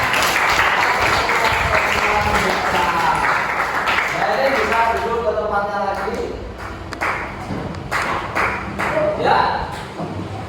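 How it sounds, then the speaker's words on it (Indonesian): A classroom group claps in applause for a presenting team, a burst of dense clapping that thins into scattered claps, with voices talking over it. "Untuk kelompok 4 kita beri aplaus yang meriah dulu ya"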